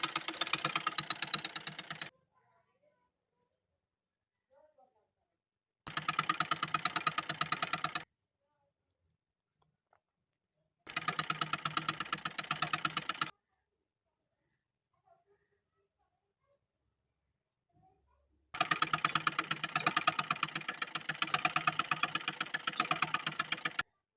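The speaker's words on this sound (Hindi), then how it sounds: "उसके बाद सिलाई करते हैं, ताकि उलटने के बाद ये कहीं कपड़ा मुड़ी न रहे।" Sewing machine stitching an embroidered blouse back-neck lining, running in four separate bursts of rapid mechanical whirring with silent pauses between, close and steady.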